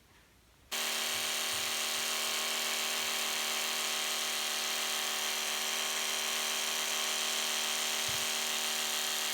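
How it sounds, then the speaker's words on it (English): An electric toothbrush switches on after a brief pause and hums steadily with a constant high buzzing whine while brushing teeth, close and uninterrupted. "Instead, I brush my teeth in front of a plant."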